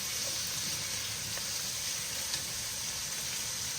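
Spices sizzling in a pan for chicken mandi, a steady close crackling fry that runs evenly throughout with faint stirring clicks and no voices.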